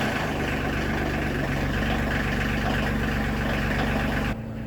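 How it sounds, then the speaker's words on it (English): A Coyote CK26 compact tractor engine runs at a steady idle, loud and close, with a constant low rumble that holds for several seconds before dropping off abruptly at the end. "let's go ahead and get the Coyote CK26 started"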